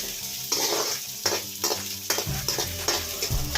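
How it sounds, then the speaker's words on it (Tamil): Onions and chillies sauté in a pan for ridge gourd chutney, a close, bright sizzle pulsing with rhythmic stirring strokes about every second, with no voices heard. "வெங்காயமும் நல்லா வதங்கிடுச்சு. இந்த மிளகாயங்களை போடலாம். நல்லா வதங்கிட்டுருங்க."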